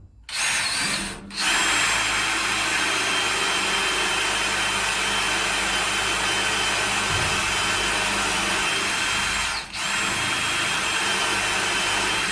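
A DeWalt drill bores through the metal subfloor of a narrowboat with a loud, steady whine. It runs almost unbroken for about twelve seconds, with two brief dips where the trigger eases.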